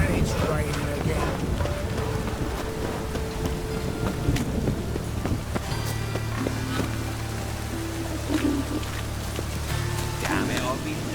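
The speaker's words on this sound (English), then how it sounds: "It's raining again." Steady rain with low rumbles of thunder in the video game The Witcher 3, continuous and moderately loud, with scattered voices and other sounds mixed in.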